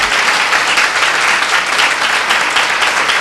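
Loud, continuous clapping from a large congregation at a church meeting, a thick wash of applause that holds steady from start to finish.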